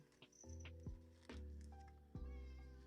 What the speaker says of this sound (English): I don't know if you can hear my cat, but apparently my cat wants attention.